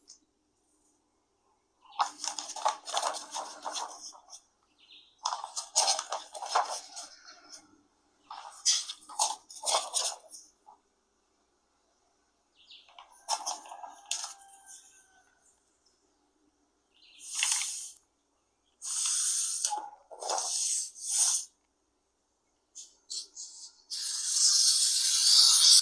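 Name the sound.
utility knife cutting wallpaper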